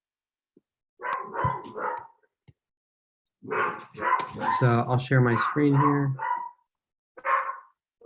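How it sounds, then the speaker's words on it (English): A pet dog barks during an online meeting, with a few short yaps followed by a longer run of barks and whines, and one final bark. A person speaks briefly between the bursts. "Yep, that's my dog."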